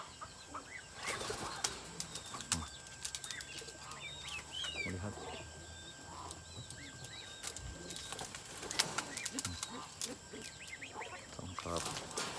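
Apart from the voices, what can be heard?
pet pigeon cooing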